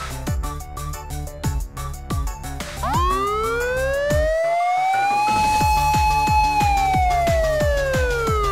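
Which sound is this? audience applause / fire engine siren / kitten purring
fire engine siren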